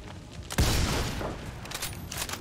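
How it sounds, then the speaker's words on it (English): A Reaper's sniper rifle shot in XCOM 2 lands as one loud, sharp crack that rolls into a long, noisy rumbling tail, followed by faint game ambience. "Put a big bullet in him, Mr. Reaper."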